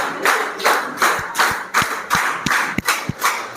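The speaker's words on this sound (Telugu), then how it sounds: "క్లాప్." An audience at a company celebration claps in unison while new directors walk up onto the stage, loud, even claps about three per second in a steady beat with no talking.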